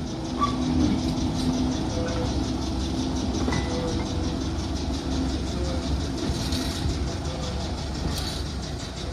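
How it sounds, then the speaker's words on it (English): A locomotive rumbles low and steady as it slowly reverses a loaded beer van onto wagons in a brewery goods shed, with faint clanks and squeals from the couplings and no voices. "Queen Anne is reversing the loaded beer van onto some wagons already in the goods shed."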